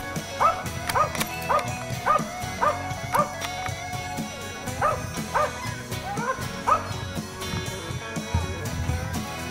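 A hunting dog on a hog hunt gives repeated yipping barks in uneven bursts, close and loud, with a few whimpers, while people talk faintly in the background.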